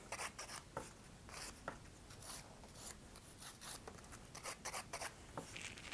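A nail file rasps across a gel or acrylic fingernail in quick, close, repeated scratchy strokes, soft and rhythmic with short gaps between passes.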